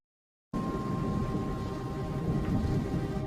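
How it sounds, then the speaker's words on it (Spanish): A thunderstorm over an airport begins after a moment of silence: a steady, loud wash of rolling thunder and heavy rain carries on without a break, and no one talks. "thunder begins to reverberate around the airport"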